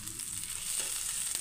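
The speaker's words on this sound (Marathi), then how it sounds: "तर इथं आता मासा फ्राय करायला ठेवलाय." Fish frying in a pan hisses in a continuous, even sizzle, close and steady for a brief moment.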